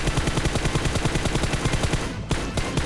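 Rapid automatic gunfire in the mobile battle-royale game PUBG Mobile, a loud, continuous stream of closely spaced shots that breaks off briefly near the end and then resumes.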